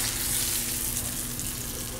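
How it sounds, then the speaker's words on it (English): A ribeye steak sears in a hot pan with a loud, continuous close-up sizzle and crackle that holds steady throughout, with no voices. "Wow, look at the sear It's a good sear."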